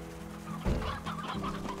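Chickens cluck steadily in the video game Slime Rancher, a busy overlapping flock heard close and fairly loud with no talking over it.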